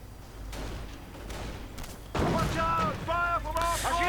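Gunfire and distant booms from a World War II real-time strategy battle crackle through a continuous combat soundscape, with a sharp burst midway and scattered unit voice callouts over it.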